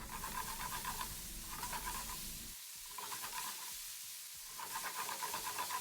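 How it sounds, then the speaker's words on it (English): Yakisoba noodles stir-fry in a hot pan with a continuous sizzle and hiss, broken by brief scraping stir strokes that come in rhythmic bursts. "I'm going to add noodle now and keep stirring for 2 to 3"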